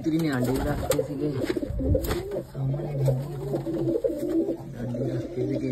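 Domestic pigeons in a rooftop loft coo in low, repeated rolling calls close by, steady through the whole stretch, with people's voices mixed in beneath them.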